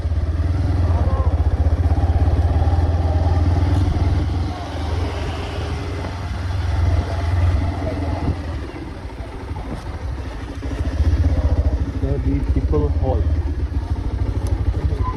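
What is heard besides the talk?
motorcycle riding into a hall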